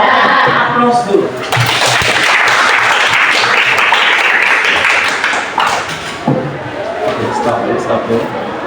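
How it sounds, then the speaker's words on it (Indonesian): A university classroom audience breaks into loud, sustained applause, many hands clapping close together for several seconds before fading, with voices speaking before and after. "Aplaus dulu."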